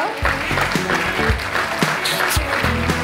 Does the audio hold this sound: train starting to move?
no